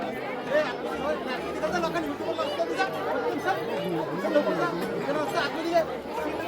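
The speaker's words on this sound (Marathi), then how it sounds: "तुम्हाला दाखवतो मी आता भाविकांची गर्दी किती आहे" Devotees crowd together at the Aai Jogeshwari festival in Nagothane, filling the space with a steady, dense babble of overlapping voices close by.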